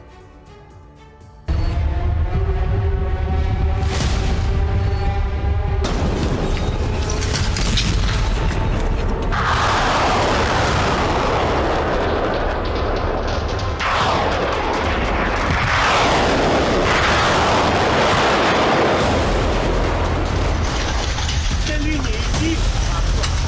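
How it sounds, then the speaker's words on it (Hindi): Ukrainian Neptune cruise missiles strike targets in heavy booming blasts, a loud rumbling roar building after a short quiet start, with repeated explosions and sustained crackling debris noise for over twenty seconds. "यूक्रेन की मिसाइलों ने अपने टारगेट को सटीकता से हिट किया"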